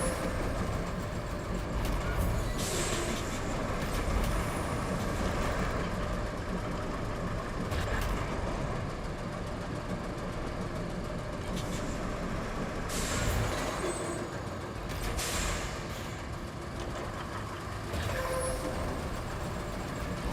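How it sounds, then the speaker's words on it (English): A heavy truck engine in a video game rumbles continuously, joined by occasional sharp hisses and clanks, fairly loud and without voices. "Didn't realize how loud the truck is until it is off."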